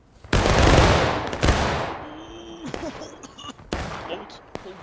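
A loud, close volley of gunfire fired on command at an event bursts out all at once, followed by a few scattered single shots with voices in the background.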